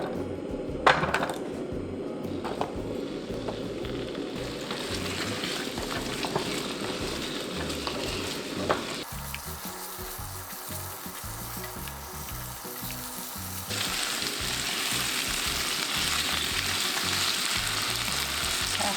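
Potatoes fry in avocado oil with a continuous close sizzle, joined by scraping stirs; the crackle grows louder and brighter in the final seconds.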